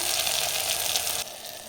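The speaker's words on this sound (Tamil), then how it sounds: "தக்காளி நல்லா வதங்கட்டும்" Chopped tomatoes sautéing in a pan for a peanut curry: a steady, loud, close sizzle and hiss that thins out slightly near the end.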